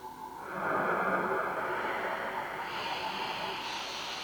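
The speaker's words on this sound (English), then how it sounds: "And the arcade noise oscillator." Breathy, resonant noise from a Modor NF1 synthesizer's arcade noise oscillator swells in after a brief moment and holds steady, its filtered tone shifting slightly higher partway through, moderately quiet and alone.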